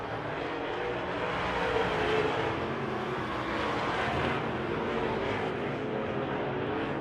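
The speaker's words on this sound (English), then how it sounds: "The classic Ford versus Chevrolet for second spot." Ford and Chevrolet race cars battle for second place, McRae's Ford among them, their engines roaring in one loud, steady, continuous blend with no voices over it.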